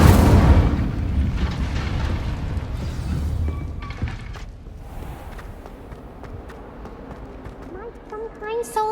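An Incendio fire spell cast in the video game Hogwarts Legacy, opening with a heavy fiery whoosh that decays over a few seconds into crackling, followed by scattered game effects and footsteps, with voices speaking.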